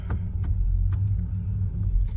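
A 1989 Mercury Grand Marquis engine rumbling while driving, a steady deep low growl with road noise and faint clicks from inside the car, no talk over it.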